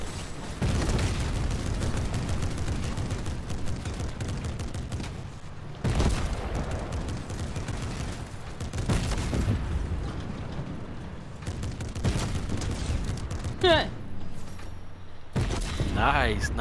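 Rapid bursts of gunfire fill a Fortnite match as a player shoots at a building's ceiling, loud and repeated with short gaps, while excited players shout over the shots.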